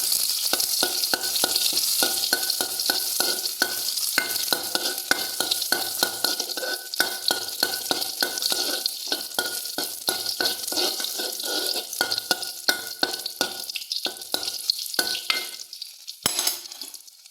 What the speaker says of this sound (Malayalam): ഉള്ളി ഇട്ട് പച്ചമുളകും ഇട്ട് കുറച്ച് കറിവേപ്പില ഇടാം. ഇതൊന്ന് ഇളക്കി കൊടുക്കാം.